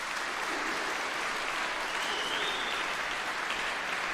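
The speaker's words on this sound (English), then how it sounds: "please feel free to give them a round of applause" Sustained audience applause fills the hall at a New Zealand brass band championship contest, steady and dense from start to finish with no pauses or voices over it.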